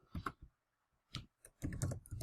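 Someone types on a computer keyboard into an Excel spreadsheet: close, crisp key clicks in short bursts separated by brief pauses, ending in a quicker flurry of keystrokes.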